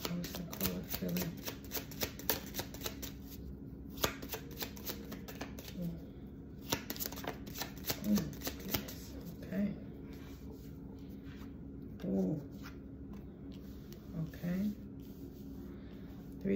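Tarot cards are shuffled up close in repeated riffling bursts with short pauses between them, while a voice talks now and then underneath.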